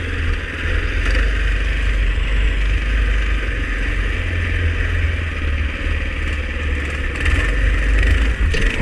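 A Massimo MudStar MB200S and a Mini Baja mini bike ride a summer forest trail, their small engines droning loudly and continuously up close with slight rises in revs and no voices.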